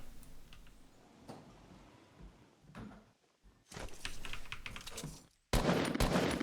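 Gunfire in a Fortnite tournament match, scattered shots and bursts with quiet gaps between them, followed by louder, denser firing near the end, with keyboard clicks in places.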